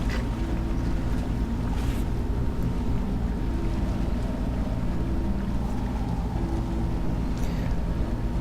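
A boat ride in Dishonored carries a steady low engine drone with water wash and wind, constant and close throughout, with no voices.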